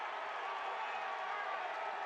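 A basketball crowd in Frost Arena gets to its feet to rally the home team, a steady, dense roar of cheering and noise holding at an even level throughout without breaks.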